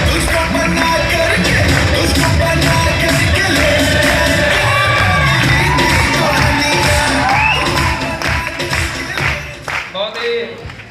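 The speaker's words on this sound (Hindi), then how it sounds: "तो एक बार जोरदार तालियां" Loud, dense crowd applause and cheering with shouts and whoops fills a hall at a Safe Shop business event, sustained and steady before thinning out near the end.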